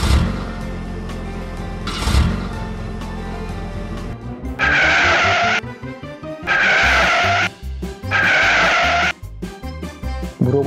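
Cartoon cars peel away with loud, close squealing tires in several sharp bursts between revving engines, set against lively music.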